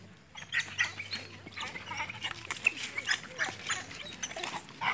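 A chicken squawks in sharp, repeated cries near a loose Rottweiler in an outdoor yard, with scattered animal noises and some faint background voices.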